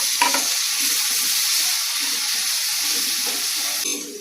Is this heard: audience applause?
no